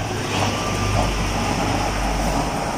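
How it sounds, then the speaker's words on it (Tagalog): A blower fans the fire of a homemade stove, giving a steady, close, broadband roaring whoosh with a low rumble that holds evenly throughout with no talk. "Tingnan mo yung blower."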